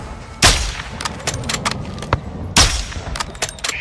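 Mortar fire in the Call of Duty: Modern Warfare 2 (2022) mission Recon By Fire: two heavy booming blasts stand out amid scattered gunshots and battle noise, with no talking.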